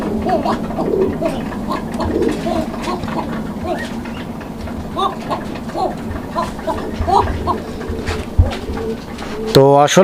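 Fancy pigeons coo in repeated soft, throaty phrases close by, with a person talking over them throughout and a brief sharp electronic-sounding burst right at the end.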